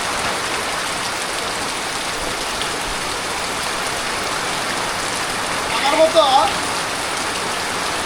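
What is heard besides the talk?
rain falling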